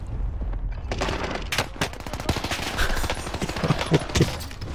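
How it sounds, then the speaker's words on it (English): Machine pistol gunfire in the game Warzone Pacific rattles out in rapid, loud, close bursts, with sharp repeated shots packed tightly together and short breaks between volleys. "What is this? A machine pistol?"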